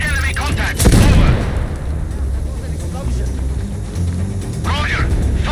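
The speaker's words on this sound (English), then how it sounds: "the weapon sound effects are excellent" Gunfire and a heavy explosion from the video game Sniper Ghost Warrior Contracts 2: a loud blast bursts out near the one-second mark, followed by a steady rumbling battle backdrop with a few sharper reports later on.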